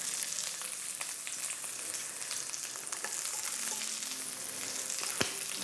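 Onion and chilli frying in a pan for air-fried chips chilli: a steady, dense sizzle with faint scraping and a sharp tap near the end, no voices.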